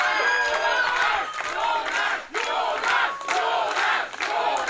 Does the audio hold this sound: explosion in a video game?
no